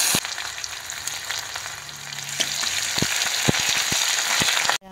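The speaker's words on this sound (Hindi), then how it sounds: "ये डाल दिया तड़का" Onions and spices crackle and sizzle steadily in hot oil as a tadka is fried for noodles, with a few sharper pops over the continuous frying hiss.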